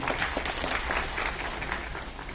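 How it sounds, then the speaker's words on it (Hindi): Applause from an audience at a Bahujan Samaj Party political meeting, a dense steady wash of clapping that holds at one level for the whole stretch, with no other sound breaking through. "जोरदार तालियां उनके लिए"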